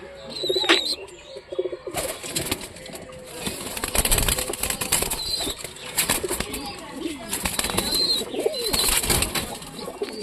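A pigeon chick held in the hand gives soft cooing calls amid wing flapping and handling noise, with a person talking close by at intervals.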